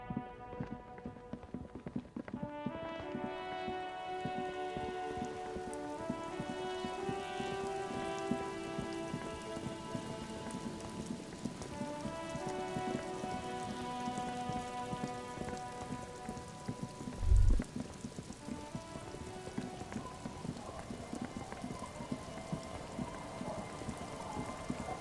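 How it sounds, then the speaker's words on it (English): Rain falls steadily in the video game Disco Elysium beneath a soft, melodic music score. One dull thump lands near the end. "Oh shit, it's raining."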